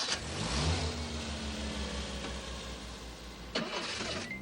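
A cartoon car engine cranks and catches, then holds a rough revving rumble for several seconds before a sharp clank near the end, all fairly close with no talking.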